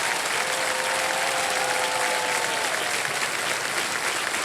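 A game show studio audience bursts into steady, loud applause for a contestant who has just won, a dense sustained clapping that fills the room with a faint tonal sweep beneath it.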